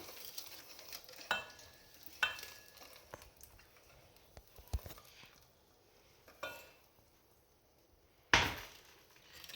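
Melted butter being stirred gently into pancake batter, with soft wet swishing and scraping in a bowl punctuated by a few sharper clinks of utensil against the dish, close and fairly quiet.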